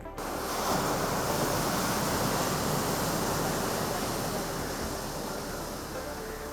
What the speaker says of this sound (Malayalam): ഈ കടലിരമ്പം ഇമ്പത്തോടെ കേട്ടിരുന്നവർ ഇന്ന് അലയടിച്ചുയരുന്ന തിരമാലകളുടെ ഇരമ്പിയാർക്കലുകളെ ഭീതിയോടെയാണ് കേൾക്കുന്നത്